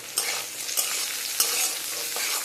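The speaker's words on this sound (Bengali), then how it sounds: "একটুখানি লবণ দিয়ে দেব হালকা একটু আর শুকনো করে ভেজে নেব পটলটাকে" Pointed gourd (potol) with a little salt frying dry in a pan, with a steady close sizzle and repeated scraping stir strokes throughout.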